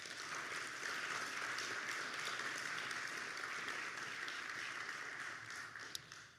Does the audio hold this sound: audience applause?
yes